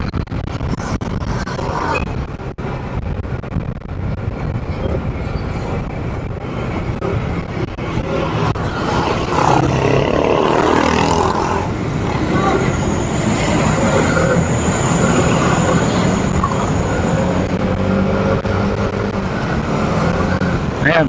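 A Kymco Skytown 150 scooter with a 150cc engine hums steadily while riding through traffic, a constant drone with wind and road noise and passing vehicles, as a rider talks over it.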